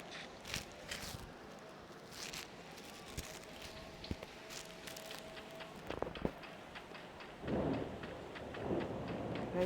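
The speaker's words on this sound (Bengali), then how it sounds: "দেখছো কীভাবে জোরে বাজ পড়ছে" Faint, distant thunder rolls low and heavy near the end, beneath a soft patter of rain and a few scattered light knocks, during a storm with lightning strikes.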